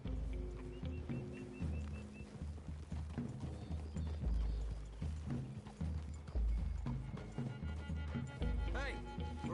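Horse hooves clip-clop in Red Dead Redemption as riders move through trees toward a clearing, with steady hoofbeats mixed with tack rattles and background game music.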